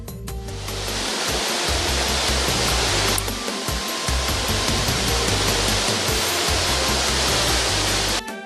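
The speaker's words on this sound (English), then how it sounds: "The water falling down from the height and splashing up the ground is a great spectacle, as it also steams." Farin Ruwa Falls, a high waterfall, pours and splashes onto the ground below in a loud, continuous broadband roar that holds steady throughout with no voices.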